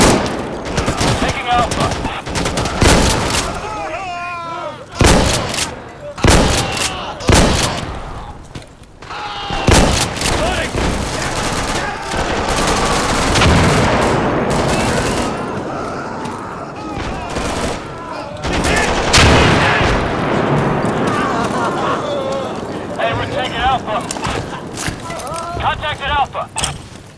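Gunfire and explosions in the video game Insurgency (2014), played with a dynamic sound overhaul mod: dense rapid automatic fire, sharp single shots and booming blasts, with a voice calling out tactical commands over the combat.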